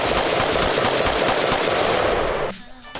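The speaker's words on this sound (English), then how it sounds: "proceeded to fire 2 to 3 more mags through the Omni." An ATI Omni Hybrid 5.56 AR-15 rifle fires a rapid, loud string of shots at close range for about two and a half seconds, then stops, leaving a brief ringing tail.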